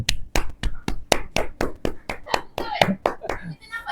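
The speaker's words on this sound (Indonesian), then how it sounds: "Tepuk tangan buat mak." Group of people claps in a steady rhythm for mum during a family Ramadan gathering, about a dozen crisp, loud hand claps at roughly three per second, with a little voice murmur near the end.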